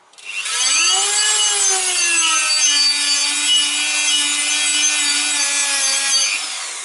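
A Dremel multitool spins up to a steady, loud, high-pitched whine while it sands the holes of a car brake disc. The tool holds its tone for several seconds, then starts to wind down.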